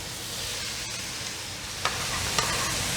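Onions sizzle and hiss steadily in a hot pan alongside sausage and peppers, a constant frying crackle with a couple of sharp utensil clicks as the food is stirred.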